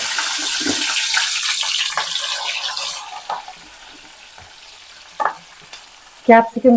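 Capsicum frying in hot oil to crisp the outside, a loud, close sizzle for the first three seconds that then dies down to a quiet hiss, with a few sharp pan or utensil knocks near the end.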